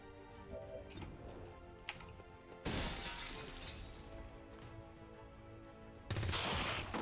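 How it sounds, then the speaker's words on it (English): Heavy gunfire in the game XCOM 2: War of the Chosen, sharp shattering bursts that erupt mid-clip and again at the end, loud against a steady musical and ambient background. "There's heavy fire in the zone."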